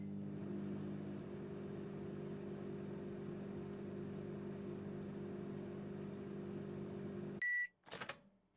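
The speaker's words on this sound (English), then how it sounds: "pick up the burrito, place that in the microwave," A microwave in the video game Adios hums steadily with a low, even whir while a burrito cooks, then stops abruptly and gives a few sharp beeps at the end.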